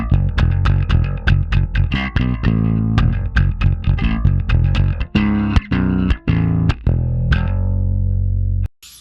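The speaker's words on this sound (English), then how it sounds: "So with those power chords, it sounds like this." Distorted electric bass plays a chugging power-chord riff, loud, with choppy repeated chords, short stabs and held notes before cutting off.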